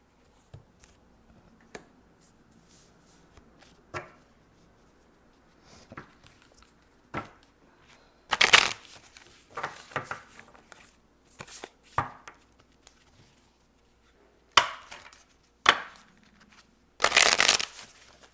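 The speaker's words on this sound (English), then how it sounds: "I'm going to get a guardian angel tarot card because I wanted to tell me. These cards are huge" Oversized guardian angel tarot cards are shuffled in a series of short, crisp riffling bursts and soft slaps, separated by quiet pauses, close up with no talking.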